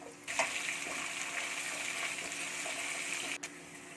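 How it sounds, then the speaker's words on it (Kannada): Dry fish sizzling in hot oil in a pan makes a steady, fairly quiet hiss with a small clatter near the start and another just before the end. "ಒಣಮೀನು ಹಾಕಿ ಒಂದು 5 ನಿಮಿಷ ಎಣ್ಣೆಯಲ್ಲಿ ಚೆನ್ನಾಗಿ ಫ್ರೈ ಮಾಡ್ಕೊಳ್ಳಿ."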